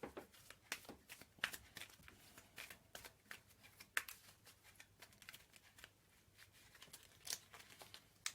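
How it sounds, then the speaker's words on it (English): Quiet, crisp riffling and snapping of a card deck being shuffled, repeated in quick irregular bursts over several seconds. "so that's the deck shuffled"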